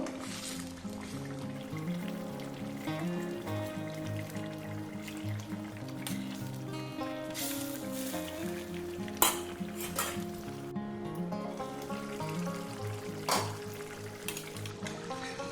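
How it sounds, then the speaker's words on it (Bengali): Bhola fish curry bubbles and sizzles in a pan with a constant soft hiss and a few faint utensil clinks, under background music. "এবারে মাছটা পাঁচ থেকে সাত মিনিট আমি ফুটিয়ে নেব"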